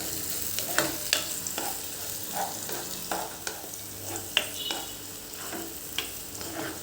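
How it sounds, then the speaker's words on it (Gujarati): Chopped onion sautéing in a pan, a steady soft sizzle with repeated light stirring scrapes and small spikes of movement throughout, no voices. "તો એની અંદર મેં આ એક મોટી ડુંગળીને ચોપરમાં ચોપ કરી લીધી છે, તે એડ કરીશું અને એને સારી રીતે આપણે સાંતળવાની છે"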